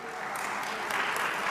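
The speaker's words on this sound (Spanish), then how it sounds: "Los aplausos en la sala vinieron solo de la bancada de gobierno" Applause fills a legislative chamber in Ecuador, a dense, even patter of many hands clapping at once, steady and moderately loud for a brief moment, with voices murmuring underneath.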